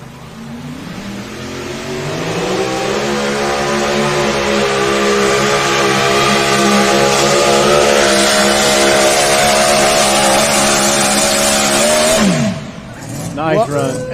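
A mini class pulling tractor runs a pull at an NTPA truck and tractor pulling event in Napoleon, Ohio. Its engine roars up loud and sustained, holding a high, steady scream for about ten seconds before cutting off, with a commentator talking over it.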